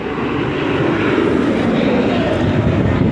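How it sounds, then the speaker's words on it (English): Steady, broad jet engine roar of an airplane taking off from Rome's Fiumicino airport, sustained and fairly loud throughout with no voices. "Oh, more planes taking off."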